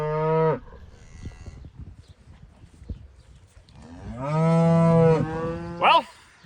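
Cattle in a barn lot let out a long, loud moo up close, then after a quiet stretch with faint rustling, another drawn-out moo rises and ends in a short final call.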